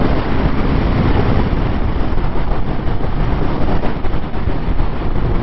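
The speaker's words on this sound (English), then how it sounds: "Wind though. Wind tonight. Strong." Strong wind roars and buffets steadily against a rider cruising in sixth gear on a 2021 Aprilia Tuono V4 Factory motorcycle, a loud, dense, unbroken rush close to the microphone.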